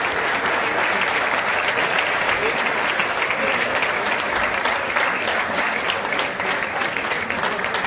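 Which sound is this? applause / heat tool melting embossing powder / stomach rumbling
applause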